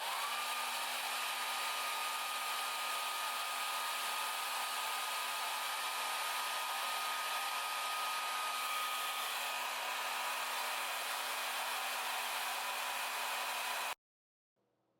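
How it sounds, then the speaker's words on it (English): A hair dryer blows steadily while drying a wig, a loud continuous whir with a steady tone that runs without pause for about fourteen seconds and then cuts off abruptly, leaving near silence. "once I'm done blow drying this wig down"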